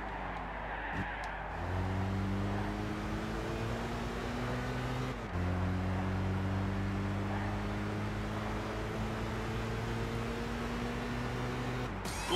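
Subaru BRZ engine in Gran Turismo 6 drones steadily at racing revs, its tone climbing and shifting through gears in stepped pitch changes with a brief break midway, loud and continuous with no talk.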